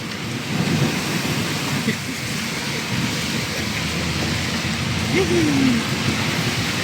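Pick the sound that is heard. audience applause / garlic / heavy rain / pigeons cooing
heavy rain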